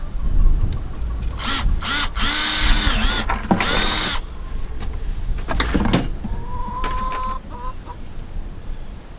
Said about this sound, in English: it came with this drill bit, and it looks too big, but let's try it and see.